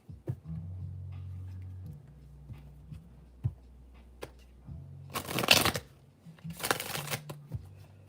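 A deck of tarot cards is shuffled close by in two brisk riffling bursts, each lasting about a second, following quieter handling taps against a low background hum.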